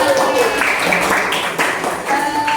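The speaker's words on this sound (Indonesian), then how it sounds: "Tepuk tangan." Schoolchildren in a classroom applaud on cue, giving a dense, continuous patter of clapping that fills the short moment alongside an overlapping voice.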